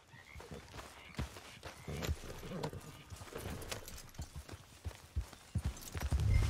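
Horse hooves clip-clopping on the ground in the video game Red Dead Redemption 2, a steady walking rhythm of close hoof strikes that grows heavier toward the end, with faint voices in the background.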